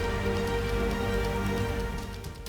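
Heavy rain pours down steadily in Kota during flooding, a dense, even hiss of falling water that stays constant and fairly close, with no voices.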